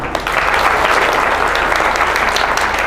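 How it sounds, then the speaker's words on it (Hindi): Dense, loud applause from a large audience at a network marketing business meeting in Jalalabad, a steady wash of many hands clapping together throughout without a break. "तहे दिल से जबरदस्त तालियां"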